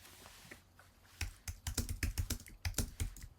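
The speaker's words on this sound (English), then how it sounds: "So I'm going to type in a query." A query is typed on a computer keyboard in quick, uneven bursts of close, crisp key clicks. A short pause comes first, then the rapid tapping continues to the end.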